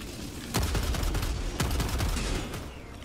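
Gunfire in the video game Helldivers 2: dense overlapping shots and rapid bursts ring out loudly in a sustained volley for most of the moment, with no talking.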